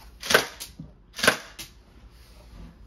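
An electric BB gun pistol fires two sharp, close snaps about a second apart, followed by fainter clicks and a final pop.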